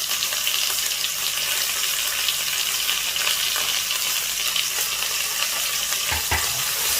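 Green chilli and ginger sizzle and fry in a pan for a Kerala tomato pachadi, a steady close hiss of hot oil with light stirring scrapes throughout.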